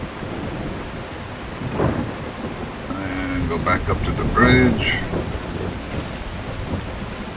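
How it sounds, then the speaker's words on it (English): A thunderstorm with rain in the video game The Last Caretaker, heard as a steady rain wash with low rumbling beneath, while someone talks over it. "there's quite a storm going on"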